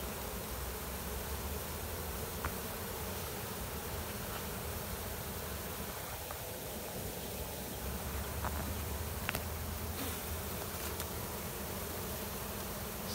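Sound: honey bees buzzing around a hive

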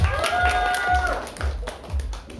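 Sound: audience applause at a live performance

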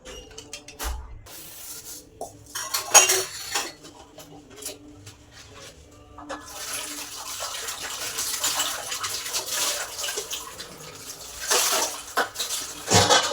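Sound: washing and tidying dishes after cooking biryani

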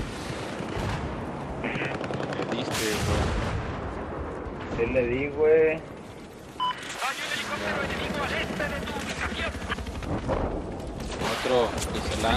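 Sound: gunfire and tank fire in the video game Battlefield 4

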